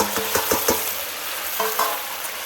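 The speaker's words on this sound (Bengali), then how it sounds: "দিয়ে দেবো আদা বাটা, দিয়ে ভালো করে ভেজে নেবো" A steady, close sizzle of ginger paste and spices frying in a pan for a jackfruit and prawn curry, with a few soft scraping stirs over the continuous hiss.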